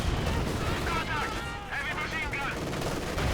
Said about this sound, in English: Grenades going off as well.